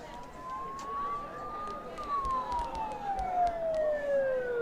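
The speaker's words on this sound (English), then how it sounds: "Don't those sirens sound really close?" A police siren wails in the Persona 4 Golden video game, one long tone rising slowly and then falling, heard close over a rumbling background of road noise with talking underneath.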